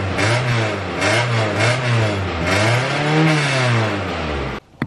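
A K24-swapped rear-wheel-drive Subaru Impreza engine revs up and down several times, its pitch rising and falling loudly and close, then cuts off abruptly with a brief knock at the end.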